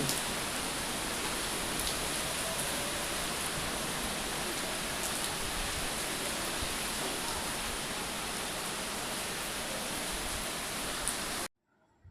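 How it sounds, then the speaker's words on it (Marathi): Heavy rain pours steadily during a storm, a dense, loud wash of noise that continues without a break for about eleven seconds and then cuts off abruptly. "वादळ बघा ना किती वादळ"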